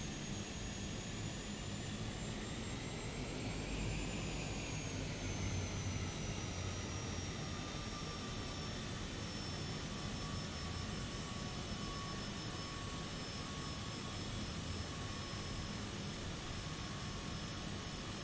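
Simulated Cessna Caravan turboprop in Microsoft Flight Simulator 2020, spooling up for takeoff on the runway, a steady loud turbine whine and propeller drone with a rising then settling pitch, continuous and without talk.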